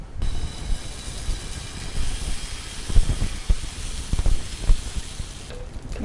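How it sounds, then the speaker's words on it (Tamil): Mappillai samba rice dosa batter poured onto a hot tawa, giving a loud, close, continuous hiss and sizzle with scattered crackles and a few spoon or tawa knocks, no voices. "நம்ம தவாவில் ஊற்றிக்கலாம்"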